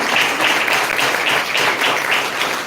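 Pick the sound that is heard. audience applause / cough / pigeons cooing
audience applause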